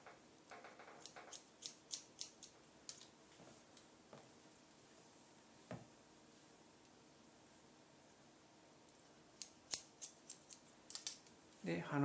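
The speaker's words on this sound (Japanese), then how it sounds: "下の厚みを残して指半本分ずらして切る。" Hair scissors snipping through hair during a layered, rounded-graduation haircut, with crisp close clusters of cuts at the start and again near the end, separated by a quiet stretch and a single faint snip.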